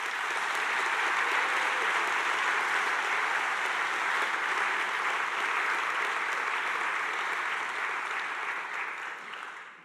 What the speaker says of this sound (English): let's please all give a huge round of applause to all the amazing volunteers